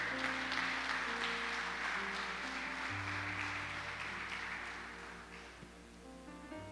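A church congregation applauds for Jesus, a soft, distant round of clapping that fades gradually while sustained keyboard chords play underneath.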